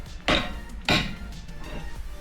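Two sharp metallic strikes, a hammer hitting a wrench during tie rod replacement on a 2011–2013 Dodge Durango, about half a second apart and close by, each ringing briefly before fading.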